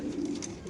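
Racer pigeons in a pair, one carrying a red leg tag and chip, give a soft, steady cooing close by under low background noise.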